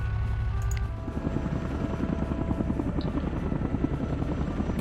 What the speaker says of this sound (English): I could deal with them with the choppers